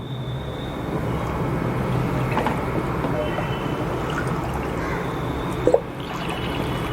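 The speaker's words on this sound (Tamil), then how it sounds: "இப்போ இதில் தேவையான அளவுக்கு தண்ணி சேர்த்துக்கலாம்." Water poured into a pan holding two cups of sugar, a soft continuous trickling and splashing that stays fairly even, with a brief sharper clink near the end.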